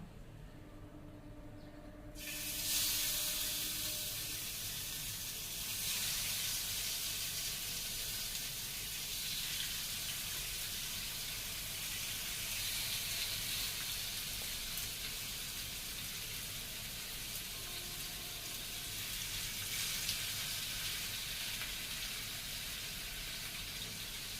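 Marinated fish pieces drop into hot oil and set off a sudden loud, broad sizzle that holds as a steady frying hiss for the rest of the stretch.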